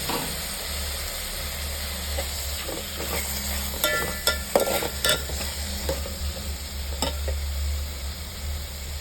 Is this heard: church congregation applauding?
no